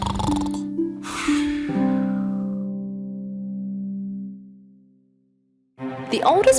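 A voice imitates a young man's snoring in a children's bedtime princess story: drawn-out, nasal snorting breaths with a tonal hum, a few in succession, close and loud, followed by a pause and brief talk.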